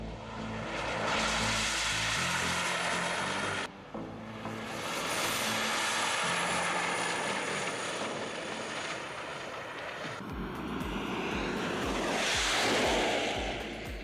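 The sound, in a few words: Toyota MR2 jet car roaring double jet engines on track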